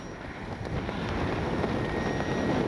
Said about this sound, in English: If you can even hear the wind at all, that tells you exactly how strong the wind actually is